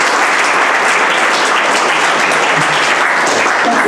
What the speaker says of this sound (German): Applaus für den jungen Mann hier.